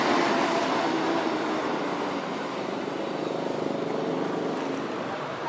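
A Hino RK jet bus of Trans Gladiator's Presiden class entering the Purabaya bus terminal, a loud continuous engine roar with road rumble that holds steady throughout, no voices.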